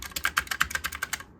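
Steady, brisk keystrokes on a PC keyboard at a home computer setup, about a dozen clicky taps in an even rhythm, close and distinct with no talking.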